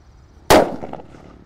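A single sharp bang from a 'colorful sweater' firecracker, loud and close, its crackling echo trailing off over the next second.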